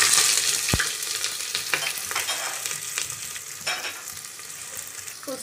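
Onions frying in a pan for a homemade chicken biryani, after cloves and cardamom go in: steady close sizzle with stirring scrapes and a sharp clink near the start, no talk.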